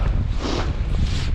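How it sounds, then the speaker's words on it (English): Wind gusting hard outdoors during a snowstorm near a basketball court, a steady loud roar buffeting the microphone throughout with low rumble and rushing hiss. "wind blowing."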